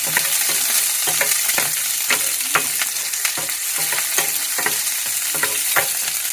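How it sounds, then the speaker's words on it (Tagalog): Chopped onions frying and splattering in a hot pan for shrimp sinigang, a dense continuous sizzle broken by a quick rhythm of stirring scrapes and spits, close and alone without talk. "Then sunod natin itong sibuyas guys. Yun, tumatalsik na."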